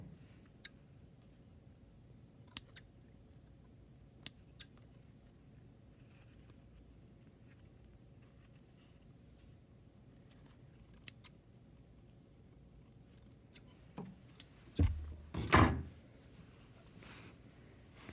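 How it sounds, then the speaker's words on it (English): Scissors snip the threads on sewn-together elastic for pajama pants, giving a few sharp, isolated clicks spaced seconds apart in a quiet room, followed by a brief burst of handling and rustling near the end. "Trim your threads."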